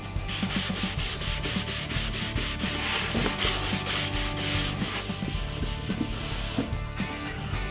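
Rhythmic back-and-forth sanding on a wooden bookcase shelf, bringing the edge banding flush, with steady close rasping strokes continuing without pause and no talking.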